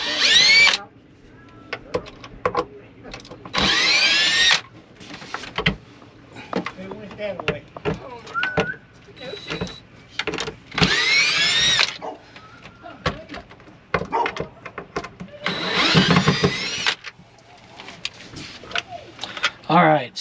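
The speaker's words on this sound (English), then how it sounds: "We're going to take our little screw gun. We're going to pop off these 4 screws." A cordless screw gun whirs in several short bursts while backing screws out of a failed Southwire Surge Guard 35550 unit, with speech between the bursts.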